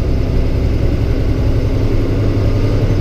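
A 10-speed truck's diesel engine runs steadily and loudly during a gear-shifting lesson, a constant low rumble with no clear break for the shift.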